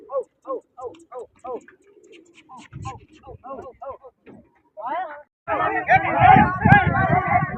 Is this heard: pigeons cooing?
yes